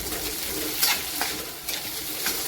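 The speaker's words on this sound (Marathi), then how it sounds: "तर आता आपण हिरवी मिरची पण टाकून घेऊया हिरव्या मिरचीला पण छान परतून घ्यायचे" Green chilies sautéing with onion and curry leaves for tomato chutney, giving a steady broadband sizzle with a few brief stirring scrapes over it. The sound stays close and even from start to finish.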